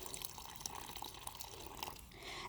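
Water poured from an old pitcher onto garden soil in a bucket, a steady splashing trickle with small drips throughout, close and moderately loud, no voices.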